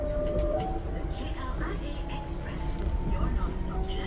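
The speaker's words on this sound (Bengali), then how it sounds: "ট্রেন ছাড়ছে" From inside a departing train comes a steady, dense low rumble with faint tonal whines riding over it, continuous from start to end, with soft murmuring voices blended into the background.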